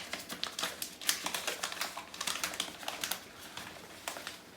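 Blue sterilisation wrap is folded around a surgical instrument cassette, producing a quick, irregular series of crisp crinkles and papery snaps close by.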